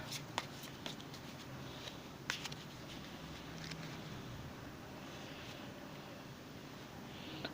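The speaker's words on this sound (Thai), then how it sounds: "ทีนี้เราลองมาเปิดไพ่ทำนายต่อนะคะ" Oracle cards are shuffled and laid out for dream reading. The soft, quiet rustle is broken by a few light taps and flicks.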